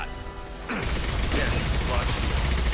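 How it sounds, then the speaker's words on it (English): High impact shot fired in the Mass Effect 2 game, a sudden loud blast that cuts in after a quieter moment and trails into a dense, rattling mechanical wash lasting to the end. "Firing a high impact shot."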